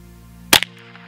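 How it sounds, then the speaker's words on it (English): A single sharp gunshot fired into a Twinkie in a bullet penetration test cracks loud and close, followed by a brief smaller report, then a quiet tail over a low steady hum. "Safety is off. Weapon is hot. Gonna be firing."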